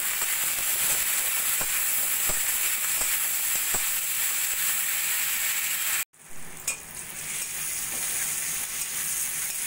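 Capsicum frying with salt in a pan for chilli paneer, a steady loud sizzle with scattered stirring clicks, briefly cutting out before the hiss resumes.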